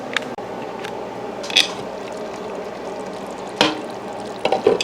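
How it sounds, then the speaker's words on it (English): A crockpot meal that has cooked for hours in its own juices is stirred, with soft wet squishing and a few louder scraping, clinking strokes against the pot, close up and without talk. "Let's do a little update and see if we can stir some of this around."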